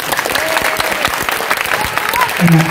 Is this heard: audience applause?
yes